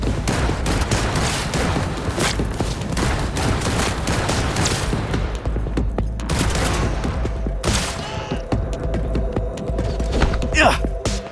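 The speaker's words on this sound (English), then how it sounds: "Shotgun!" A shotgun in Cyberpunk 2077 fires repeatedly amid dense, loud combat noise, with blasts thudding close over a humming background throughout.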